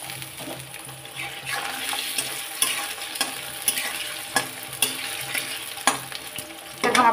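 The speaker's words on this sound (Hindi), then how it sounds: "और ये आलू भी हम साथ में डाल देंगे ताकि दोनों मेरा फ्राई हो जाए।" Paneer and potatoes frying together in a pan, a steady close sizzle broken by repeated clinks and scrapes of stirring, with no talk.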